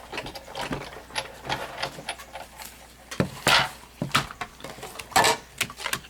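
A hand-cranked die-cutting machine presses a card, giving soft ratcheting clicks and gear rattles in an uneven rhythm, with a few louder clunks, close by and fairly quiet.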